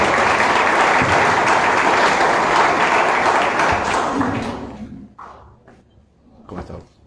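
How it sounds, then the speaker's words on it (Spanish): Audience at an academic ceremony in Pativilca applauds General Juan Urbano Revilla, dense loud clapping for about five seconds before fading into scattered claps and a brief voice. "Un fuerte aplauso para él, por favor."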